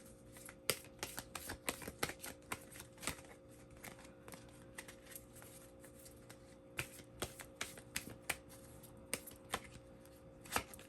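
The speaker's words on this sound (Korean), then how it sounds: "상대방 분이 언제쯤 연락을 하려는지 한번 카드를 뽑아보도록 할게요" Tarot cards are shuffled and drawn in a steady run of crisp riffling snaps and soft slides, close and fairly quiet, lasting throughout with no voices.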